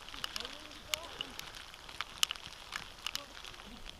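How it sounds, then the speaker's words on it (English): Rain mixed with a little hail falls during a winter wild camp on a hillside in England's Cheviot Hills, making a soft constant patter dotted with sharp scattered ticks and light wind. "it's sort of rain and a bit of hailstones."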